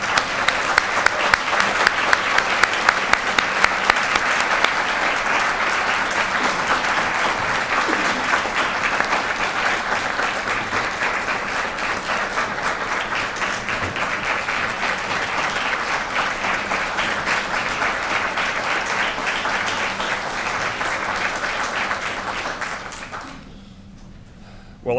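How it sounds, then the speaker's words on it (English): Sustained audience applause at a 2019 academic affairs address, a dense steady clatter of many hands filling the room for over twenty seconds before tapering off abruptly near the end. "How about a round of applause?"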